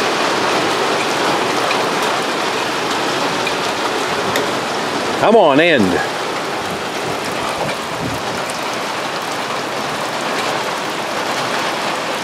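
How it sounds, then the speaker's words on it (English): Heavy rain pours steadily throughout, a constant loud hiss; a voice briefly calls out midway, with possible faint rumbling thunder underneath. "It's been pouring rain, thundering."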